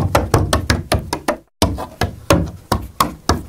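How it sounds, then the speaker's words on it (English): Banjo picks tap and knock rapidly on a hard surface as Foley for goblin claws, a close, dry run of sharp irregular clicks with a brief pause midway before the tapping resumes. "It's just banjo picks."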